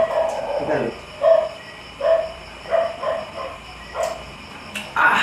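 Several short yipping dog barks come in spaced bursts, fairly close, with a brief louder cluster at the end.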